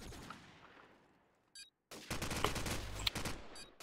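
Gunfire in Call of Duty 4 during a Promod scrim match: a faint single shot, a short gap, then dense bursts of rapid weapon fire with sharp cracks, loud and close.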